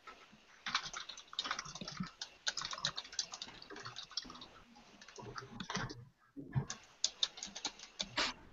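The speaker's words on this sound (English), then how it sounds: "I guess I'm clicking things and sorry, Judith." Fingers type steadily on a computer keyboard mixed with mouse clicks, a close, quick rattle of keystrokes with a short pause before the tapping resumes.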